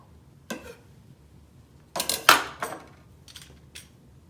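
A knife trims and peels a Japanese eggplant on a board, giving a few sharp knocks and scraping cuts, with one isolated tap followed by a cluster of clattering strokes and a couple of lighter scrapes.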